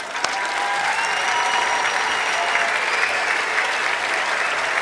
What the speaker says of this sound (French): je vous propose de les applaudir bien fort